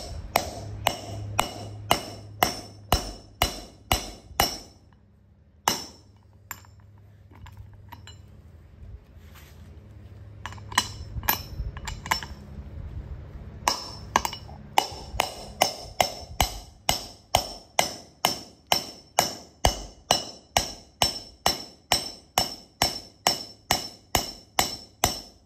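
A hammer strikes a seal driver to seat a bearing race on a Ford 7.3 OBS truck hub, a long run of sharp metallic clanks with a short break mid-way, the ringing tone changing once it seats.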